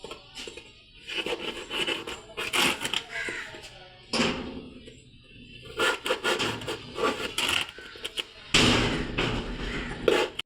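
A hole is poked into material for a handmade sparrow nest craft, giving scraping, rubbing and rasping sounds with irregular knocks, close and fairly busy.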